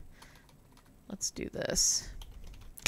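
A computer keyboard being typed on in short, close clicking bursts, with a person speaking briefly over the keystrokes.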